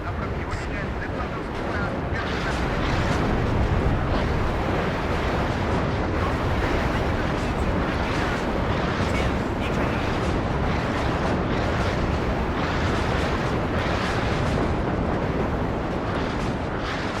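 Rocket fire and explosions in the WARNO war strategy game: a dense, continuous rumbling roar of blasts that stays loud throughout, with voices talking over it.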